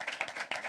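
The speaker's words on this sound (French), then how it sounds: "on peut s'applaudir encore." Audience at a live podcast recording claps, a short burst of mixed hand claps in a room, a few sharper claps standing out and no voices over it.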